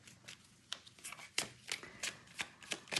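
Tarot cards are shuffled by hand in a quick run of soft riffles and taps, close but quiet, with an irregular rhythm and no speech over it.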